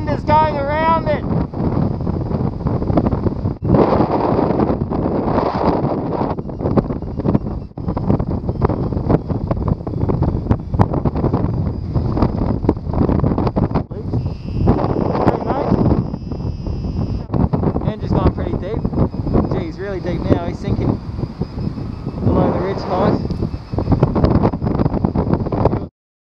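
Strong wind buffets the microphone around an ancient Australian volcano, a constant roaring rumble with gusty surges throughout, while a person talks intermittently over it.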